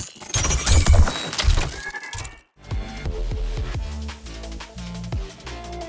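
A dense burst of crackling, grinding noise cuts off, then a synthetic creature cries out in wavering, whinny-like calls over a mechanical rumble.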